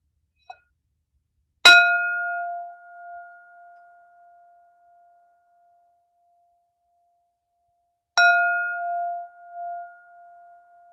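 Two struck meditation bells ring out clearly, each with a sharp metallic strike followed by a long, pure, slowly fading resonant tone, the strikes spaced about six seconds apart in otherwise quiet surroundings.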